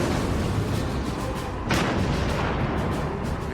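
A 37mm cannon on a Panzer Mark III tank fires a single loud, sharp blast partway through, standing out over a rumbling, noisy battlefield background with no talking.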